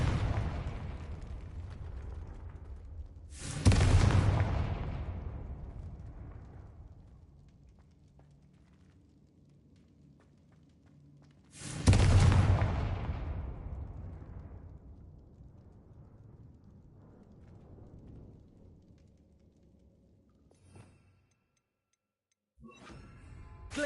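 Two loud, close explosive bursts from the Confringo fire spell in the Hogwarts Legacy video game, several seconds apart, each fading into a long rumbling tail with faint ticking between them.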